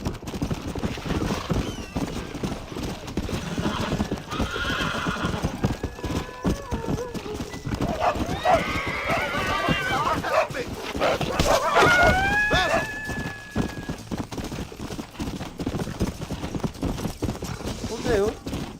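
In the Red Dead Redemption video game, a horse's hooves clip-clop steadily while it whinnies loudly a couple of times, with someone talking excitedly over the sounds.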